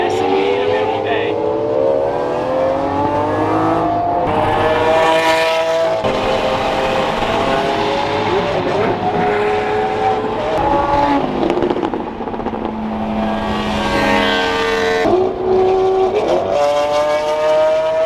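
Several Lamborghinis driving and revving outdoors, loud continuous engine roar with rising and falling revs and layered exhaust notes from more than one car, under occasional talking.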